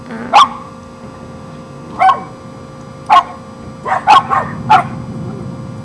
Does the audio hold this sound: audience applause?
no